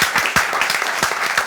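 A live audience bursts into close, dense applause at a comedy stage show. The sharp claps run steadily for the whole brief stretch with no talking over them.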